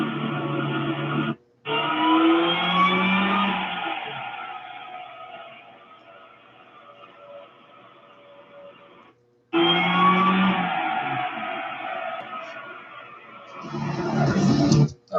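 A tuned car engine with vacuum boost issues roars as it accelerates hard through the gears, pitch climbing in long pulls with brief cuts between shifts.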